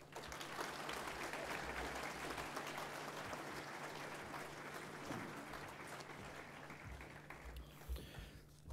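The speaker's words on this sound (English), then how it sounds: "Please give a round of applause pour Emma de Groot" Audience applause for Emma de Groot, playing captain for Team Canada, at a golf industry evening event; steady, fairly faint clapping from a room full of people lasting throughout, with a constant low hum underneath.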